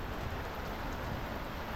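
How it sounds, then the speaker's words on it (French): Heavy rain drums steadily on a sailing boat out at sea, a dense, even downpour with a constant hiss and patter and no voices. "Et là c'est pas un petit grain là, c'est vraiment..."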